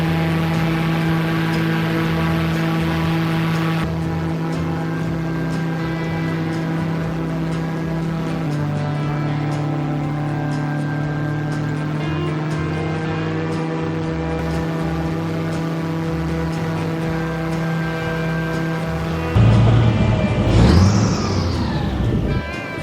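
A large outboard motor drives a boat through a Louisiana swamp on a Lafitte wetlands tour, a steady loud droning hum with strong low harmonics throughout, briefly rising and churning near the end.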